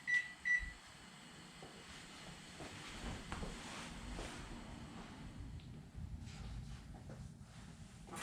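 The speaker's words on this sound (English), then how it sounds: "The timer just went off on the oven." An oven timer beeping in a workshop while an aluminum hard hat bakes for powder coating: two short loud beeps at the very start, then a low steady hum of the oven and room.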